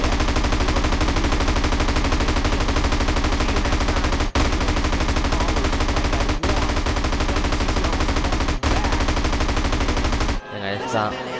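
Relentless rapid gunfire in the video game GTA San Andreas blasts continuously for about ten seconds, loud and dense, with brief sharp breaks before it cuts off.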